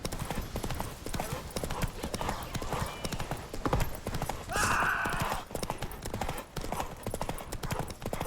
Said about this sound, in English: Faster! Faster! Come on, Roach